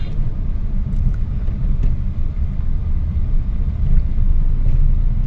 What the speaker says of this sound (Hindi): देखो सर जी स्लो में चला रहे हैं